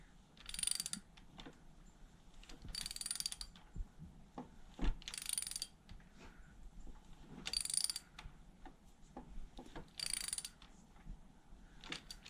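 A ZXR 250 motorcycle engine, unstarted for 18 years and with spark plugs out, is turned over by hand, giving repeated mechanical ratcheting and clicking bursts in a slow rhythm, close and fairly quiet.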